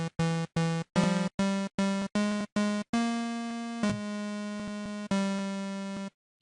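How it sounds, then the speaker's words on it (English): A Native Instruments Massive synthesizer on its plain init preset plays a short melody of bright, buzzy sawtooth notes, first clipped staccato hits and then longer held tones, close and clean with no voices. "I got Massive here with a init preset, no preset loaded, so it sounds like this."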